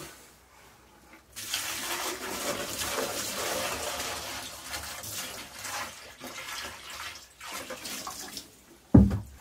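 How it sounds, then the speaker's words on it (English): A bucket of water poured into an inground swimming pool pump to prime it at pool opening: a steady, fairly close splashing gush lasting about seven seconds, ending in a short thump. "I'm going to prime the pump."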